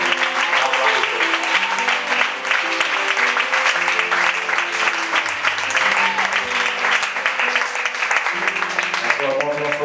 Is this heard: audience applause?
yes